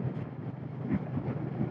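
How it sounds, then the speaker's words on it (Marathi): Strong wind buffets the microphone while riding a Royal Enfield on the road, a steady low roar with gusty swells lasting under two seconds. "पण खूप विंड ब्लास्ट आहे."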